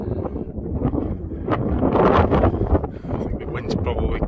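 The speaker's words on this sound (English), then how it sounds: "I think the wind's probably blocked a lot of the sound out." Strong wind roars steadily across the summit of East Cairn Hill in the Scottish hills in February, buffeting the microphone loudly and continuously throughout.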